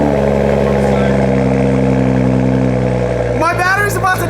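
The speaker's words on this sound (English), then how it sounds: "Let's get a cold start to end it." A Toyota Supra engine idles loud and steady right up close with a deep, constant drone, then a brief rougher burst near the end as the car is started cold.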